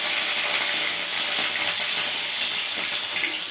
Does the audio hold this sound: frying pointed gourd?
yes